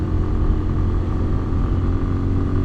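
A Lifan Xpect motorcycle fitted with a 17T front and 41T rear sprocket runs at full throttle, its engine a loud, steady, close drone that holds an even pitch throughout with no voices.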